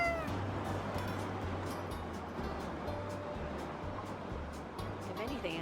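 A stray cat on a street in Manila meows loudly and repeatedly in drawn-out wails over busy outdoor background noise, with a low hum that comes and goes and faint voices nearby.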